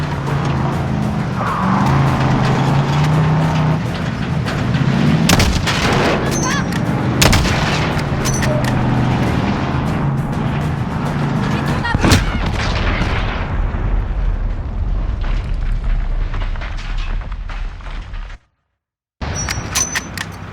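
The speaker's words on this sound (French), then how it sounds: "Vise le conducteur. Tire, Alex, tire." Heavy gunfire and explosions from Call of Duty Modern Warfare fill the scene, with loud repeated shots, booming blasts and a vehicle engine roaring throughout, briefly cutting to silence near the end.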